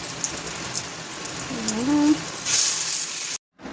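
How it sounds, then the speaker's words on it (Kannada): Jackfruit chips frying in hot oil, a loud continuous sizzle and bubbling as the oil foams up, with a short voice passing briefly over it before a sudden cutoff. "ಹೆಂಗೆ ಬುಗ್ ಅಂತ ಉಕ್ಕುತ್ತೆ ಅಂತ"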